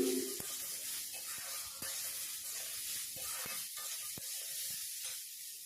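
Chopped onion and tomato frying in a pan for a bitter gourd dish, a steady soft sizzle with occasional light clicks of a spoon stirring, close and continuous with no talking.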